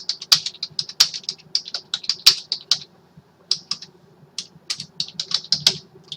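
Quick, uneven clatter of keys on a computer keyboard, close and crisp, in short bursts separated by brief pauses.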